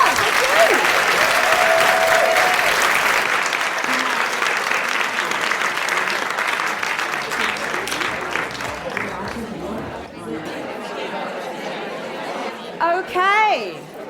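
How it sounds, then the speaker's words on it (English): A theatre audience at a comedy show breaks into loud, sustained applause that gradually thins out, with chatter and a few whoops rising as the clapping fades. "can we have a big round of applause for the two Nickys so far?"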